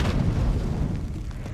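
Deep, rumbling booms of explosions in the video game Splinter Cell rolling together into a dense, continuous roar, loud and low with no voices.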